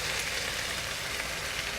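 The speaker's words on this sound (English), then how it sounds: "Give it a nice sizzle." Steady, bright sizzling of soup and bok choy frying in a hot pan, close and continuous with no pauses.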